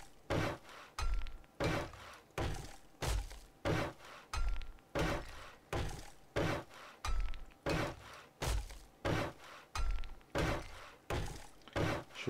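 A hammer strikes roof blocks repeatedly in 7 Days to Die, steady rhythmic thuds with a crunchy, clinking edge, about two per second and evenly spaced, close and alone without talk.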